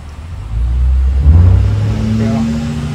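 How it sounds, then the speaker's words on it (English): A car passes along a nearby road, its engine rumble swelling and fading, with a person speaking over it. "we're right off of a road, so there's always cars going by"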